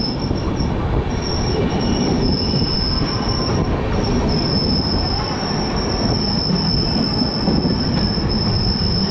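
Jammu Tawi–Kolkata Express passenger train pulling into Parasnath station, a loud, steady close rumble of wheels on rails with a continuous high metallic wheel squeal throughout.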